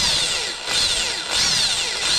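A power drill bores holes into a wooden board from a hardware store, loud whining bursts rising and falling in three or four pulses close by, with no talking.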